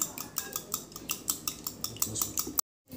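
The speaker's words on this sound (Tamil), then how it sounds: "இப்போ நம்ம எக்கை நல்லா மிக்ஸ் பண்ணிக்கலாம்" Eggs for a vanilla cake are beaten in a bowl, with a quick, steady series of sharp clinks and taps from the utensil against the bowl, close up. The sound then cuts off abruptly.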